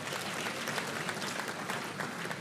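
Sustained applause from a large audience at a university special congregation ceremony, a steady dense patter of clapping filling the hall without pause.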